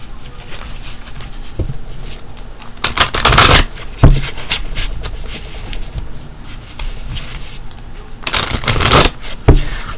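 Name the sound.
shuffling tarot cards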